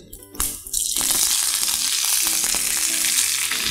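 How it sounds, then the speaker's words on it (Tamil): Fennel seeds and curry leaves spit and crackle as they hit hot coconut ghee, a sudden burst after a brief quieter start that settles into a loud, steady, close sizzle with faint pops, no voices. "அடுத்ததாக சோம்பு, நம்ம அரை வேளை சோம்பு போட்டிருக்கோம், இது தாளிப்புக்கு"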